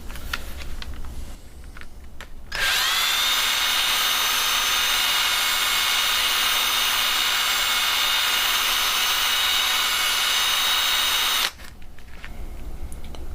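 A power sander grinds a stainless steel Atkins saw with coarse abrasive grit, giving a steady, loud, high whine for about nine seconds. Quieter workshop noise comes before and after it.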